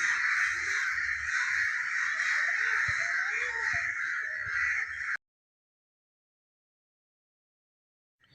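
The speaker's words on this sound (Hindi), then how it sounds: "सभी कौवों ने भी चिल्लाना शुरू कर दिया" Several crows caw loudly and continuously after a trapped crow is freed and rejoins them, a dense overlapping chorus of harsh calls for about five seconds before cutting abruptly to silence.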